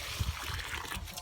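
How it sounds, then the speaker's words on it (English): Hot water is poured over rice, a brief soft trickling and splashing with a low gurgle, fairly faint and close. "So we're adding more hot water."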